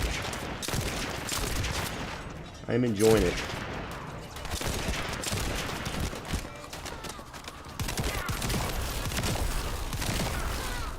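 Hand cannon shots in the game The First Descendant crack repeatedly amid dense, continuous gunfire and explosions, loud and close, while someone talks over the action.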